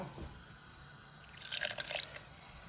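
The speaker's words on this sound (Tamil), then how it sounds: "கொஞ்சம் தண்ணி விட்டுட்டு கொஞ்சம் தண்ணி விட போறீங்க ஓகேயா" Water is poured into a mixer jar of ground curry masala, a brief splashing trickle midway through a quiet kitchen.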